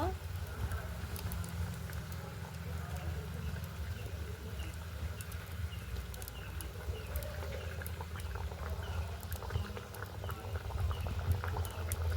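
Rohu fish curry with fried fish and aubergine bubbling in a pan, a steady low simmering burble with faint popping, even and continuous throughout.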